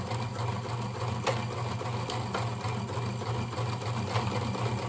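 A sewing machine stitches steadily on a scrunchie, running forward then switching to reverse, its fast even mechanical whir loud and close with faint clicks, no voices.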